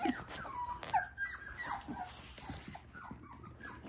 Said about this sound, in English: we won't be whiny puppies forever